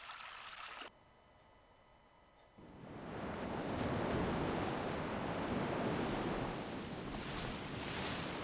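Ocean waves in the video game Grandia II, a soft hiss fading in after a brief quiet gap, then swelling into a continuous broad surf wash that rises and eases gently.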